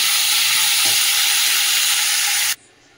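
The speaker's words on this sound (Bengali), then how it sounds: "চলো উচ্ছে আলুটা ভেজে নিই।" Bitter gourd and potato pieces, coated with turmeric, fry in hot oil in a wok with a steady, loud, close sizzle that cuts off abruptly near the end.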